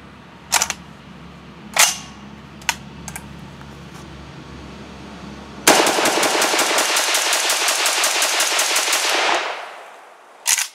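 Gunfire from an IMI Galil rifle at an outdoor range: three or four separated single shots, then a long rapid string of fire lasting several seconds, and one more shot at the end, loud and close.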